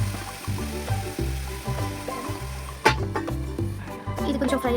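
Masala sizzling and frying in a pan for Godavari-style fish pulusu, a steady crackle with a rhythmic low thump and a sharp clatter partway through.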